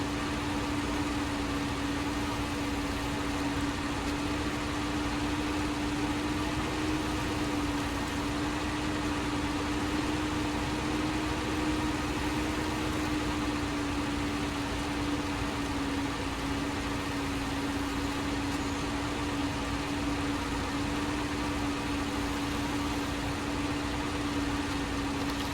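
Truck engine in the Snowrunner off-road driving game, shifting up through third into high ratio: a steady, droning engine hum with a constant tonal whine holds level throughout, with no voices.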